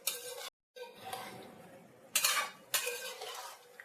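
Vegetables with tamarind juice for avial being stirred in a pan, a few separate bursts of utensil scraping and clinking against the metal, with quiet pauses between them.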